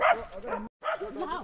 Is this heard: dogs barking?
yes